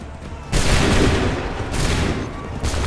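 Massed musket volley in Assassin's Creed III erupts as a loud, dense crackling fusillade, sustained for over a second, followed by a second rolling burst of gunfire amid battle noise.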